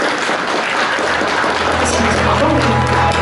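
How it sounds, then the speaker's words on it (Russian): A concert audience applauds a singer onto the stage: loud, continuous clapping fills the room, mixed with crowd voices. "давайте поприветствуем овациями и аплодисментами."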